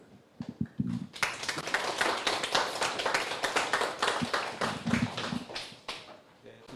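Audience applause after a lecture, a dense sustained wash of clapping hands lasting several seconds, loud and close, with a few scattered claps at the start and tapering off at the end.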